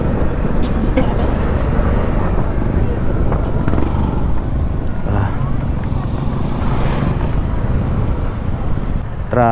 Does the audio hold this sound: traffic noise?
yes